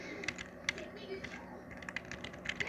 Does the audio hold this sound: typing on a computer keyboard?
yes